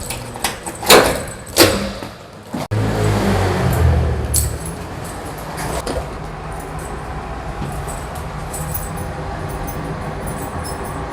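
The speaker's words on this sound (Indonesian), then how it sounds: "Kita buka pintu." A door swings open, starting with a few loud knocks and a clatter, then a heavy thud. A steady rumbling hum of traffic or a passing vehicle follows and lasts to the end.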